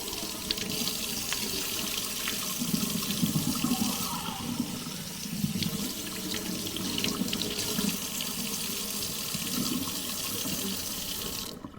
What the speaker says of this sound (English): I'm gonna wash off my mint and rosemary.